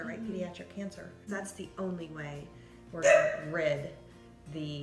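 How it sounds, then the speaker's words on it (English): A dog barks repeatedly in a house, a few sharp bursts behind and between conversation, one louder volley standing out near the middle. "excuse the dog"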